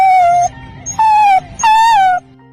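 Drawn-out, high wailing whimpers from dogs, three long tonal moans with falling pitch separated by short pauses, loud and close with no talking.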